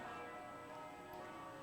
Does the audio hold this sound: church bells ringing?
yes